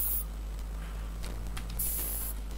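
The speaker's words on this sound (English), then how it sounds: "just give it a few test sprays and then just see how it applies to the model" An airbrush lays test sprays of paint onto a miniature model: two short, bright hissing bursts, one at the start and one near the end, over a steady low hum, without speech.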